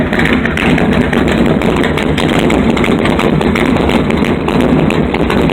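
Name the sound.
straight-piped 5.9 Magnum engine idling with exhaust leak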